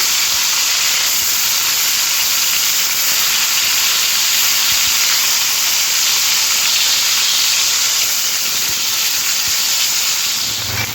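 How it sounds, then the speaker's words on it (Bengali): Pieces of aar fish frying in hot oil make a loud, unbroken, dense sizzling hiss that holds steady for the full stretch. "তেলের মধ্যে মাছের টুকরোগুলো ছেড়ে দিতে হবে দিয়ে লাল লাল করে দুই সাইড খুব ভালো করে ভেজে নিতে হবে"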